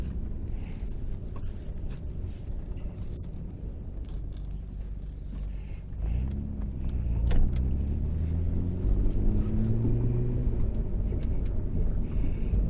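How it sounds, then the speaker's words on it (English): A modified 1991 Nissan Skyline R32 GT-R idles while warming up, a steady low rumble close by that swells slightly partway through into a fuller, humming drone. "while the car's warming up"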